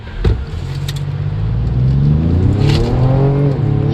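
A 2025 Ford Explorer's 3.0L turbo V6 roars up through the revs during a 0-60 run, climbing in pitch with brief dips between 10-speed gear shifts, loud and close with no talking.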